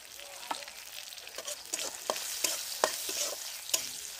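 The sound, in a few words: five-spice tempering sizzling in hot oil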